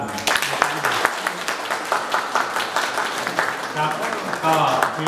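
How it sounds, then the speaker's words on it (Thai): An audience at a Thai human rights essay award ceremony applauds the speaker, a continuous spread of clapping of moderate loudness that runs throughout, with a voice talking over it at times. "ผมขอให้พี่น้องปรบมือให้เกียรติคุณ บริจิตเซอร์อีกครั้งหนึ่งครับ"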